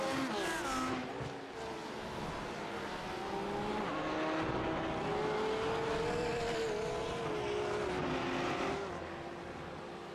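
Race cars lapping Twin Ring Motegi in the iRacing simulator, a steady loud engine drone with rising and falling pitch sweeps and no talk.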